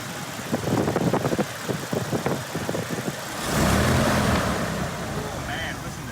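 Jeep Wrangler Rubicon fitted with an AEM intake, engine idling then revved in several quick blips followed by a longer sustained rev, close and loud, with brief talk mixed in.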